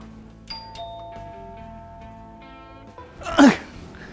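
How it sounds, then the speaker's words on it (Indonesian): A doorbell chimes with a couple of tonal notes over a quiet indoor background, followed by a louder burst of sound near the end. "Ada suara bel, tapi gue tunggu sekali lagi suaranya nih"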